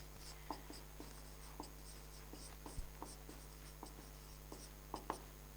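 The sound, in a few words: writing an expression on a board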